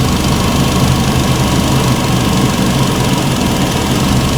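Fiat 500 engine idling roughly with a fault, a loud, close, continuous rumble with an uneven, knocking vibration throughout and no voices.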